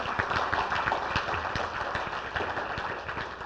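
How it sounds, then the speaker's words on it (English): Banquet audience applauding together, a dense steady patter of many hands at moderate loudness filling the room without a break. "Let's give him a round of applause."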